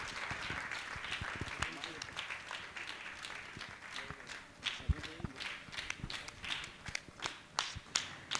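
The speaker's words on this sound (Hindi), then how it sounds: "आपकी तालियां करतल ध्वनि के साथ लगातार बजते रहना चाहिए।" Sparse, irregular clapping from an audience at a Jain religious discourse, individual sharp claps scattered through the clip with some quiet voices in the background.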